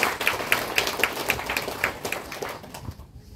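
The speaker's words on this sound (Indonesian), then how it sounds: "Tepuk tangan untuk beliau boleh kan?" Scattered applause from a congregation at a funeral mass in Noemuti, Kefa, NTT, a thin run of claps for about two and a half seconds that fades out toward the end.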